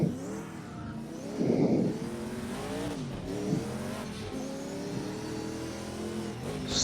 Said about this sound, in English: Still very much enjoying that engine note.